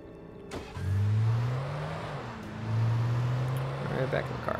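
A car engine in a video game revs up hard, drops back, then climbs again in a second long surge, loud and close with a low droning tone.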